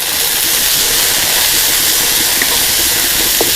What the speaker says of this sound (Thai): พอน้ำมันร้อนแล้วให้เราใส่ถั่วงอกลงไป ปรุงรสด้วยน้ำปลา แล้วผัดถั่วงอกให้สลด